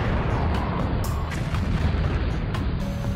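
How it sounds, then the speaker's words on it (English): Simulated impacts and explosions from a General Atomics Blitzer land-based mobile railgun roar as a dense, continuous rumble of heavy booms with no clearly separate blasts. "several simultaneous impacts obliterate enemy targets"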